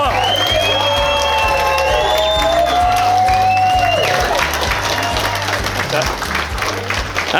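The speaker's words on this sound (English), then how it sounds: "Clap your hands. Make some noise." Wedding guests at Glenbervie House clap, cheer and whoop loudly for Paula, with a steady thumping of stomping feet beneath the roar and voices shouting throughout.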